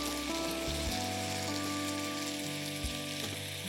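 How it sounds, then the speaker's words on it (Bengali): Ghee and sliced green chili fry in a hot pan with a continuous, even sizzle, close and steady, over a low tonal hum throughout. "হ্যাঁ একটু ঘি দেবো, একটু কাঁচা লঙ্কা একটু স্লিপ করে দিয়ে দিই।"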